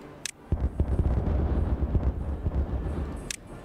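An explosion blows something up in Timberborn, a muffled, rumbling low blast that swells and lingers for a few seconds, bracketed by brief sharp clicks.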